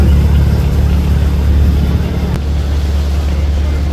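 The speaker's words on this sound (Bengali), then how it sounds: "দুর্দান্ত গতিতে চলতেছে আমাদের শুভরাজ 9।" A Bangladeshi passenger launch, Shuvoraj 9, runs at speed on a river. Its engine gives a loud, steady low drone, with wind buffeting and rushing water throughout and no voices.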